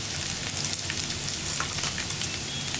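Taro (colocasia) pieces, boiled beforehand with salt and turmeric, sauté in a pan with a steady, dense sizzle that crackles like light rain throughout, with no talking.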